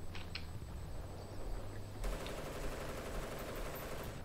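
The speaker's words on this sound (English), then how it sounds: "Oh, we're being shot at." Rapid automatic gunfire in the Vietnam setting of Battlefield Bad Company 2, a dense crackling burst that turns louder and more continuous partway through, heard at mid distance with no voices over it.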